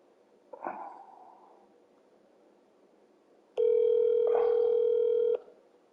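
After a call is hung up, a steady telephone dial tone sounds for about two seconds, preceded by a faint brief noise, with no talking.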